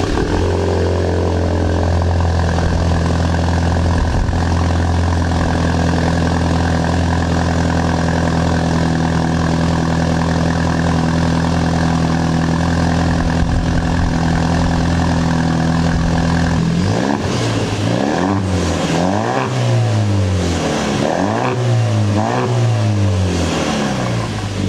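A Ford Ranger with the 2.3-liter four-cylinder engine and a Borla S-Type exhaust drones steadily at idle, then breaks into a series of rising and falling revs in the last few seconds, loud and close with no talk.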